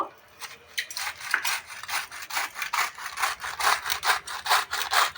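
Cabbage rubbed against a grater for making momos, producing rapid, rhythmic rasping strokes that repeat evenly and up close for several seconds.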